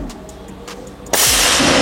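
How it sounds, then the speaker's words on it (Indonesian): A suppressed PCP air rifle fires once in the open, a sharp close crack-like burst that jumps out of quiet background noise and holds a brief hissing tail. "Kita coba tembakan yang terakhir yang kelima."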